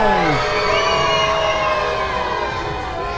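A wrestling crowd at a triple threat match cheers and yells loudly, many voices whooping and shouting together close and continuous, slowly easing off.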